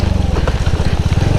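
A motorcycle engine runs on a bit of throttle, its close, loud, rapid pulsing firing rhythm steady throughout the short burst.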